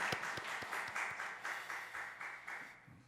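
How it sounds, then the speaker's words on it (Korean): Steady applause from a church congregation, many hands clapping together at a moderate distance, continuing evenly for a few seconds with no talking. "우리 박수 한번 드리겠습니다"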